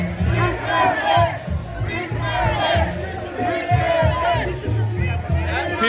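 A large protest crowd marches through downtown Ottawa on Canada Day, chanting in rhythmic repeated bursts with shouting and general crowd noise close around.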